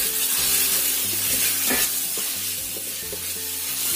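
Bay leaves, kaffir lime leaves, lemongrass, ginger and galangal sauté in hot oil for a lontong vegetable dish, giving a steady close sizzle with occasional stirring scrapes throughout and no talking.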